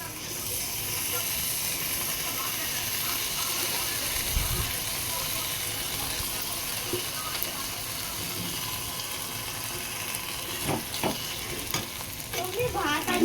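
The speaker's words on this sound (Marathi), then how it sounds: "चांगलं हलवून घेऊया" A spiced masala filling mixture for Maharashtrian bitter gourd bharit being stirred in a pan, a continuous close hiss and sizzle with soft scraping throughout and a few sharper knocks near the end, no voices.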